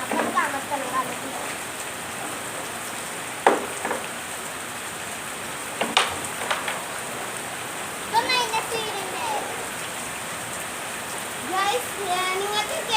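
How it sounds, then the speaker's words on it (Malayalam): Steady rain pours down in a dense, even hiss, with a few sharper drops and knocks standing out, while children and adults talk intermittently over it. "നല്ല മഴയാണ് ഗൈസ് ഇവിടെ. മഴയ്ക്ക് ശക്തിയില്ല ഗൈസ്. പക്ഷെ ഭയങ്കര സൗണ്ടാ ഗൈസ്."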